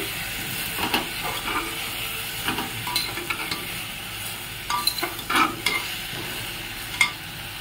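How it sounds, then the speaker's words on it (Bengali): Vegetables frying in a pan while being stirred, with a steady close sizzle and hiss broken by scraping and clinking utensil strokes at irregular intervals. "আবারও একটু নাড়াচাড়া করে নেব"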